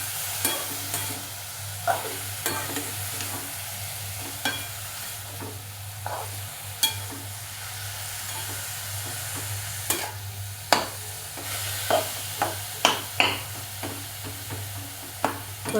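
Mixed leafy greens are stir-fried in a pan with a soft steady sizzle, punctuated by intermittent scraping and clinking stir strokes, with a low hum underneath.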